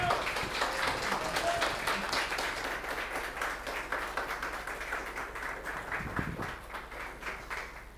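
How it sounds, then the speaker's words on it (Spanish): Warm applause from a seated audience at a history lecture, a steady wash of many claps held evenly throughout before tapering slightly near the end. "Un fuerte y caluroso aplauso a don Ulises Caravante"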